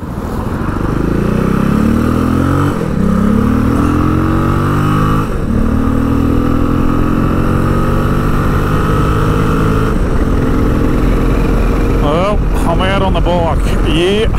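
A motorcycle rides along on its first outing in weeks, the engine droning loud and close as it rises and falls through gear changes, with wind noise and a few spoken words over it.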